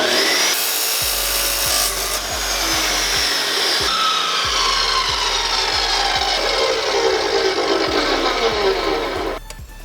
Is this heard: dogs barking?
no